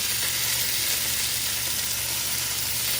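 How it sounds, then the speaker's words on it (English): Salmon fillets frying in a pan for teriyaki, a loud, steady sizzle and hiss of hot oil running without break, close up and with no talking. "So our salmon is cooking away nicely."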